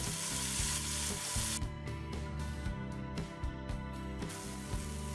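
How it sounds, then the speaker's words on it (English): Onions sizzle as they fry in a tablespoon of oil in a pot for a Trinidadian curried chicken with potato, a close, steady crackle under a rhythmic musical backing. "the first thing you want to add is your onions. And you just want to let that fry for a minute"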